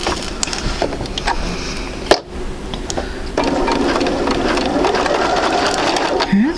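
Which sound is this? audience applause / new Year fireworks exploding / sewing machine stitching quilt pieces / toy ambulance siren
sewing machine stitching quilt pieces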